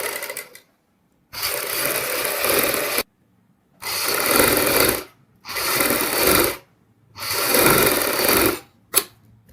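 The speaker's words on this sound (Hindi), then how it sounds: "इस तरीके से हमने इसके चारों साइड सिलाई लगा लेनी है।" A sewing machine stitches net fabric onto the lining of a padded blouse, running in four steady whirring bursts separated by brief silent pauses, close and loud.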